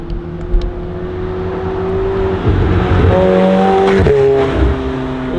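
A McLaren 720S supercar drives past close by, its engine note climbing through rising gears with sharp shifts, loud and clear with a brief burst of revving as it goes by.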